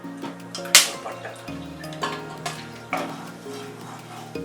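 Whole spices roast in ghee in a pot (cardamom, black cardamom, bay leaf, clove, star anise and cinnamon), with a light sizzle under several close metal clinks and scrapes of a spoon stirring.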